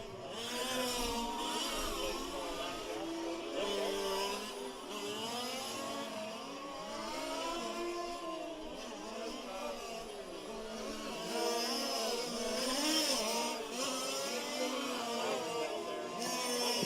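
Small 5th-scale race cars buzz around a track during the STC main race at the 2018 5th Scale World Challenge, their high-pitched engines whining and rising and falling continuously as they pass, with a commentator talking over the noise.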